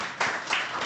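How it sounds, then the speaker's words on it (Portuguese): Brief burst of audience clapping at a Portuguese-language debate event, a short patter of hands that swells twice within under a second, moderately loud and without talk over it. "os vossos aplausos."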